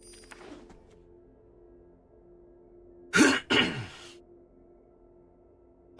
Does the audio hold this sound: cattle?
no